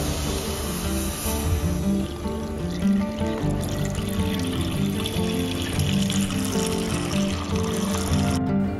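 Half a litre of milk poured into a pan and heated to a boil for kunafa cream stuffing, a steady close liquid pour and bubbling that fills the whole stretch without a break.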